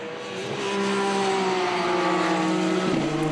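BMW M4 Silhouette race cars in a Supercar Challenge race at Spa Francorchamps, engines droning loud and steady with shifting pitch as they pass close, a brief change in tone near the end.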